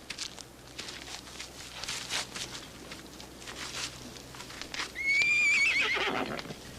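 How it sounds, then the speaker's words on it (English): Hooves clop along at a walk, then a horse lets out a loud, close whinny that rises and trails off near the end. "Nice-looking horses."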